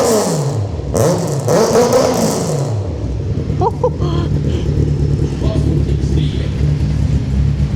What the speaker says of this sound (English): One gear rev for me.